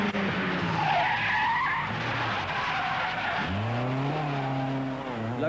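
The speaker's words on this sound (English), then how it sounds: "spectators at Catterick are being treated to some, well, unconventional driving techniques, as performed by Mike Jackson." A rally car on a stage at Catterick skids through a corner with loud tyre scrubbing and gravelly sliding, then the engine revs up and rises in pitch as it accelerates away, with no talking over it.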